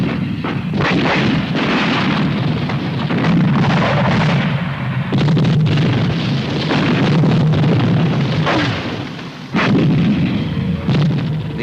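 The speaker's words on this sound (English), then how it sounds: "the artillery will put down covering fire, which may include smoke, in support of the attacking tanks and APCs" Artillery laying down covering fire, with possible smoke rounds, during a 1983 British Army training exercise; a loud, dense barrage of booming blasts and rumbling explosions rolls on continuously, with brief lulls between volleys.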